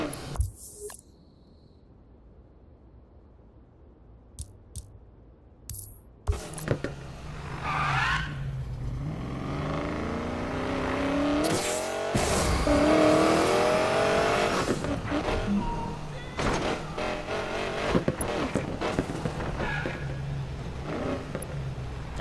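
Race car engines revving and accelerating with tire squeals and skids in the racing video game Need for Speed Payback, rising from near silence into a loud, sustained roar with sweeping pitch changes and sharp bursts.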